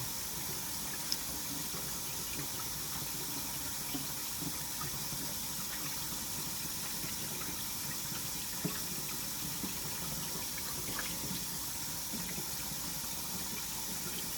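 Cold water runs steadily from a tap over eggs, a constant rushing stream with a few light knocks and clatters, heard up close.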